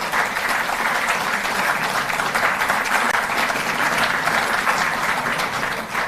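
Audience applause at a sports ceremony in Delhi, a dense, steady clapping from a large crowd that carries evenly and loudly from start to finish with no talk over it.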